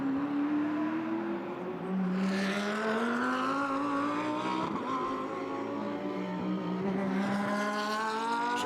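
GT race cars, a Bentley chasing a Mercedes at the Red Bull Ring in the 2015 GT Masters, engines screaming and rising in pitch as they accelerate past, loud and continuous with overlapping cars and no talk.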